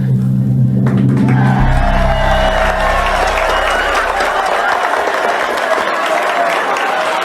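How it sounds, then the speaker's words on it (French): Audience applause and crowd noise fill the hall at a cosplay contest during a convention, rising right as the backing music ends and continuing as a dense, loud wash of clapping. "On peut l'applaudir bien fort."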